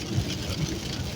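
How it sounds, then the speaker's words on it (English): Steady rain and windscreen wipers inside a car, a dense continuous wash of noise with a low rumbling undertone and faint periodic swells. "Obviously there's a lot of background noise with the rain and the windscreen wipers"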